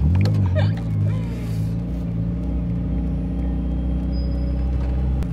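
A stick-shift car's engine revs loudly and steadily close by, a deep continuous rumble that holds throughout with a brief rise near the start.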